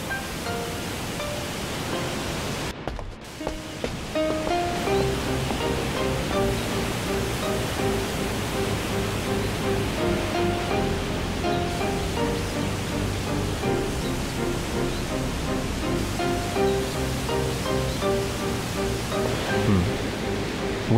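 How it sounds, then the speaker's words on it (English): A waterfall in the video game Shenmue 2 gives a continuous broad rush of falling water, steady and full for the whole stretch, with soft tonal game music running beneath it. "It sounds like a waterfall"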